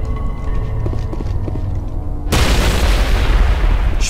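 A Mass Effect game explosion hits abruptly after a low hum of ambience, bursting into a loud, broad roar that lingers and rumbles to the end, with no one talking.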